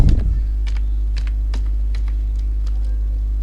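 Clicky keystrokes on a computer keyboard, several separate taps at an uneven pace, close and clear over a steady low electrical hum.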